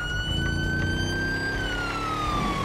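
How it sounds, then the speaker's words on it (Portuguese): Police car siren in the GTA 5 roleplay video game, a loud, continuous wailing tone that slowly sweeps downward in pitch over a rumbling engine, close and dominant throughout. "Para a sirene, para a sirene."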